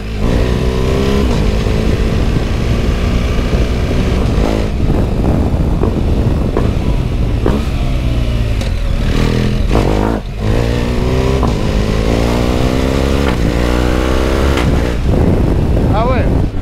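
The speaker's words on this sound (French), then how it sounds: "Oh, les passages au shifter, c'est des coups de fusil." A motorcycle revs hard and climbs through its gears, each quickshifter upshift cracking loudly like a gunshot, with repeated rising engine sweeps close to the microphone and someone talking over it.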